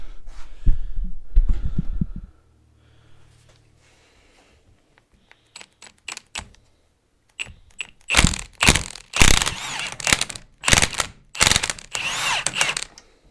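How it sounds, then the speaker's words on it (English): Impact wrench removing a bolt on a Cummins alternator, close loud bursts of rapid hammering rattles after a few softer mechanical clicks and knocks, repeated in several short blasts with brief gaps. "Your best bet for this is going to be an impact"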